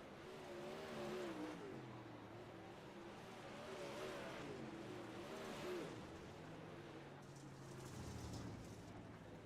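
Dirt track race cars circling at an outlaw series event, engines droning and swelling in waves as they pass, heard from a distance over a steady crowd-like hum.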